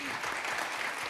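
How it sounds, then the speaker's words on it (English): Audience applause after a year-end production total is announced at a real-estate stage event, a brief, dense, steady patter of many hands at moderate distance. "go ahead, clap for that"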